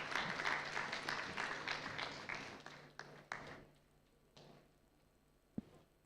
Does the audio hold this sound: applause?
yes